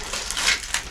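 Protective plastic film is peeled off the glass window of a new green Keter Darwin 6x8 plastic shed, a close, crackling, tearing rustle that swells and ebbs over about a second.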